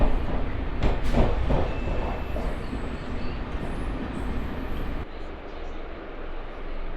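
A MEMU express train rolls between Visakhapatnam and Parvatipuram near Pendurti station, giving a steady rumbling ride with a few sharp metallic clanks early on, then a sudden drop to a quieter, duller roar partway through.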